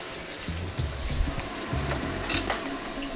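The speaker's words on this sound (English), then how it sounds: "So what I'm doing right now is so I'm rotating my wok." Beef chow fun fries in a rotating wok, with a steady, close sizzle and soft scraping and shuffling from the noodles moving in the pan.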